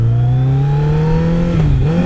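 A Kawasaki ZX14R ABS motorcycle engine drones loud and close while riding, holding a steady pitch that rises gradually before dipping briefly near the end, with wind rush underneath.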